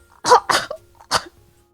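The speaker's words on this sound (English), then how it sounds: "Sorry, I just coughed up blood." A person gives a few harsh, close coughs: two quick ones back to back, a short pause, then one more, with silence at the end.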